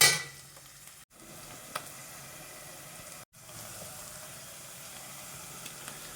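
Sliced onions fry in a pan for a fenugreek-leaf dal, giving a steady, moderately loud sizzle with faint stirring scrapes. The sizzle cuts out twice, briefly.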